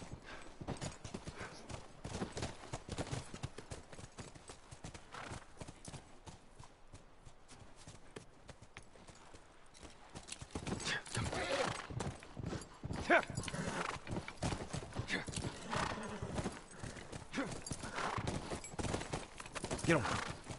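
Horses' hooves clip-clop at a steady trot in The Last of Us, with an occasional neigh, close and continuous, while gunfire crackles intermittently and voices speak over the hoofbeats.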